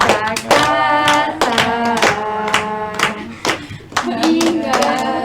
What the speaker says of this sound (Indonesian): Tepuk tangan yang lain, tepuk tangan.